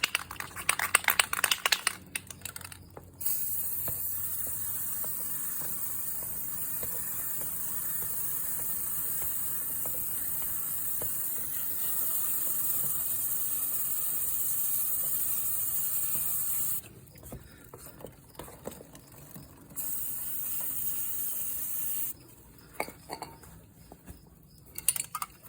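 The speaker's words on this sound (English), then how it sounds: "give it an application here of my chain wax. I like to spin it while I'm spraying it to get an even application." Chain wax is sprayed onto a spinning Kymco K-Pipe 125 motorcycle chain during its 1200-mile service, a steady close hiss lasting several seconds, pausing and resuming in shorter bursts, with faint mechanical ticking underneath and no voices.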